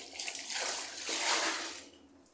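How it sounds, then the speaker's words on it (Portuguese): Soapy clothes being rinsed by hand in water without the shower running, giving a steady close wash of splashing and sloshing that peaks midway and then fades. "Deixa eu mostrar aqui pra vocês aqui lavando roupa."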